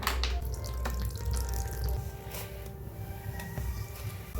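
Water poured into flour while dough for satpuri is kneaded by hand, a continuous close wet sloshing and squishing with soft slaps and small drips, no talking.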